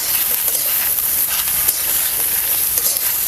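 Whole tomatoes and chillies dry roasting in a pan with no oil, giving a steady, even hiss that stays loud and continuous throughout with no voices.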